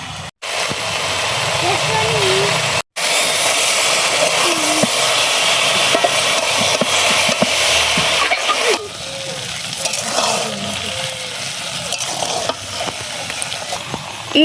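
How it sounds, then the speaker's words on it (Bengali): Jaggery going into a pan of cooking jujube pickle, giving a loud continuous sizzle and frying hiss with occasional stirring clinks while someone talks over it. "আমি এখানে গুড় দিচ্ছি"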